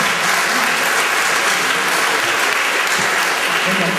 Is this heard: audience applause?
yes